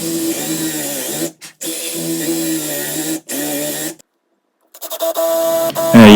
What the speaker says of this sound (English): here you can see me drilling out the waste first